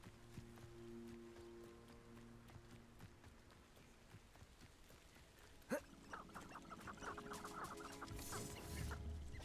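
Chickens in a video game cluck in short bursts, with one sharp squawk partway through, over a quiet game backdrop with faint other noises.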